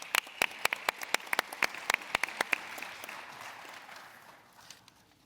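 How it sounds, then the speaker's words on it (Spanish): An audience at a Spanish-language mining conference welcomes a speaker with crisp, scattered handclaps that thin out and fade over a few seconds. "Un aplauso, por favor, para Jorge."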